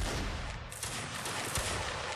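Dense, continuous volleys of musket-style gunfire as troops open fire in a video game battle, a loud unbroken crackle with scattered sharper reports, no talk over it.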